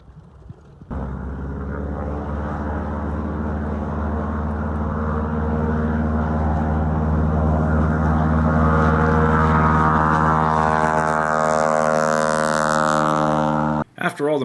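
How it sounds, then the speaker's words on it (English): A propeller plane carrying two people flies overhead above a wilderness lake during a canoe trip, its steady droning hum staying loud and close for most of the stretch before it cuts off abruptly. "the plane with Harold and Henty flew overhead, circled, and landed."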